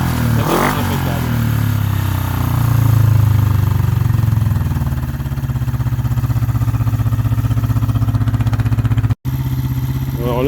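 A Honda CB 250 K5 twin motorcycle, started after 15 to 20 years sitting, runs steadily at a loud close idle with a rough, throbbing beat and a slight swell in revs early on.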